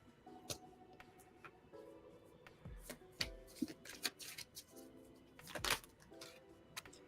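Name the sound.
tarot cards being shuffled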